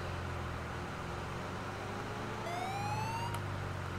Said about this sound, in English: Oh, I hear the siren